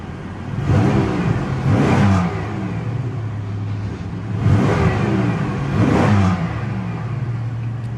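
A 1998 Pontiac Grand Prix GT with the 3.8 engine revs twice while parked, each rise swelling into a loud exhaust note before dropping back to a steady idle hum.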